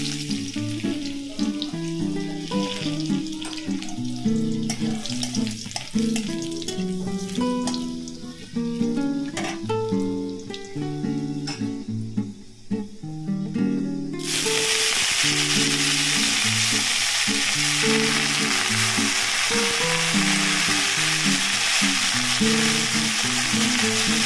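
Food frying in a pan during home cooking, with tonal clinks and clatter of utensils at first, then a loud, steady, dense sizzle taking over and holding for the rest, no talking.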